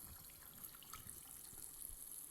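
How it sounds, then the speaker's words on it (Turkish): A shower runs with a steady, faint hiss of water in the video game Among Us, alone with no talking. "Şimdi biraz duş alalım."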